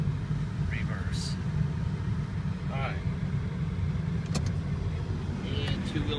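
A 2006 Ford F250 diesel truck engine runs steadily with a low, continuous rumble throughout while a person talks over it.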